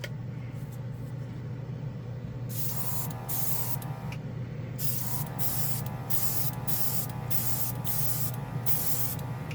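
Casubaris portable cordless airbrush kit spraying and atomizing paint, a close, steady hiss of air with repeated short bursts as the trigger is pressed and released, over a constant motor hum.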